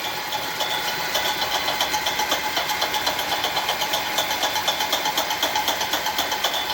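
An alternator bolted loosely to a rig spins during a brushless DC motor test, producing a steady mechanical whir with a fast, regular ticking pulse throughout, close and continuous with no talking.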